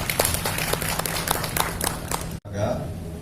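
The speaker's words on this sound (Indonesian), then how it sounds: "Tepuk tangan untuk kita semua." An audience claps together at a forum gathering in Blitar. Brisk, dense clapping runs for about two seconds and cuts off abruptly, leaving a quieter room.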